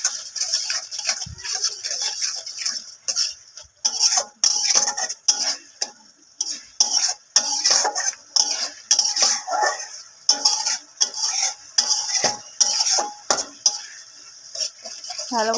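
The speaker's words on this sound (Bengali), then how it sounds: "ভালো করে মশলাটা কষিয়ে নেব।" Chili powder and cumin masala frying in oil in a home kitchen pan, stirred with a utensil that scrapes and clinks against the metal in irregular, close bursts with gaps between strokes.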